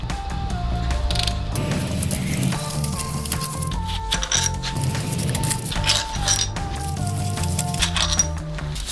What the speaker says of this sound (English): So I just have to undo each one of those 4 bolts in there.